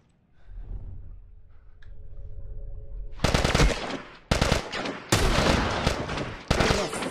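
A rifle fires in The Last of Us on PS3, with loud close bursts of rapid gunfire in several clusters after a few seconds of low rumbling ambience.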